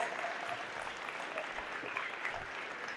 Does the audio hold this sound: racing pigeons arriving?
no